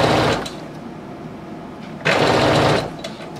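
A sewing machine stitches decorative lace onto a zipper in two loud close bursts of whirring, separated by a quieter pause with faint background hum.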